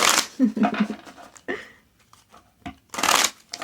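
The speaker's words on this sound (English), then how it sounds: "I'm going to shuffle and get all your cards." Tarot cards being shuffled in quick riffling bursts, loud and close, with short pauses between the shuffles and a voice speaking in the gaps.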